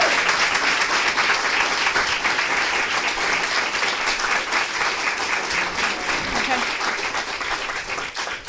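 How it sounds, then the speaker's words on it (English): An audience at a school board meeting claps and cheers, with dense, loud applause and voices mixed in. It runs for over eight seconds and eases slightly toward the end. "As much as I appreciate the cheering"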